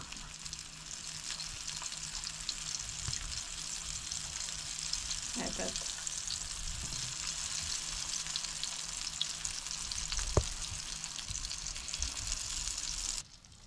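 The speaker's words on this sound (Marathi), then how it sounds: "आता वांयग्यांची कापां आमी अशी फ्राय करून घेवया" Rava-coated brinjal slices frying on a tawa, a steady close sizzle throughout with a few light clinks and taps from handling.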